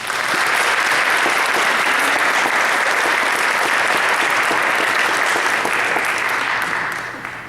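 Sustained applause from an audience welcoming a speaker at an evening talk, dense and steady clapping that holds at full strength before tapering off near the end.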